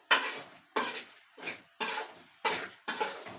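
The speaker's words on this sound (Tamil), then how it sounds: "நல்லா அப்படி வதக்கிட்டே இருக்கணும் இந்த மாதிரி நல்லா வதக்கிக்கணும்" Country chicken curry being stirred and sautéed in a pan, with six evenly spaced scraping strokes of a spoon against the metal, close and fairly quiet.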